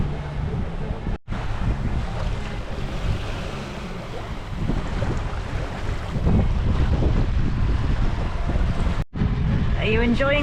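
Steady wind and rushing water surround a sailboat running downwind on just its genoa at about six knots, loud and continuous, with a couple of brief dropouts and a faint voice near the end.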